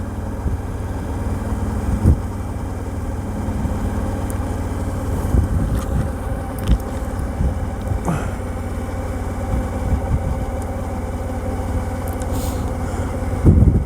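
Suzuki V-Strom 1000 motorcycle cruising through a city in fourth gear at low revs around 2100 RPM, a steady low engine drone with wind buffeting on the microphone and occasional bumps throughout.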